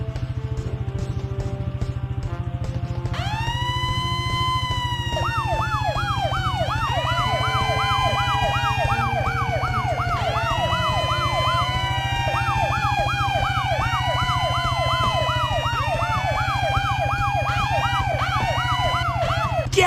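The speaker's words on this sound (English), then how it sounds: "To turn our sirens on and off, use your mouse to click on the fire trucks." Cartoon fire truck sirens in a Blaze and the Monster Machines game wail in overlapping rising and falling sweeps, several at once, loud and continuous over a low steady engine hum.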